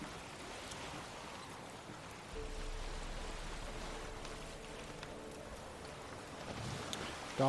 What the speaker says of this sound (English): Dark and rainy.